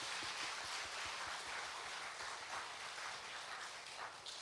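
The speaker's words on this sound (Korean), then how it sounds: "하나님 앞에 다시 한번 영광의 감사의 박수 올려드립시다" A church congregation applauds together in sustained, dense clapping that sounds soft and somewhat distant, holding steady throughout with no break.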